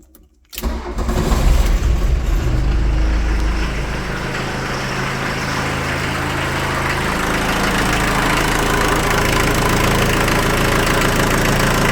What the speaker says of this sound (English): I want to show you guys how well this Rabbit actually runs.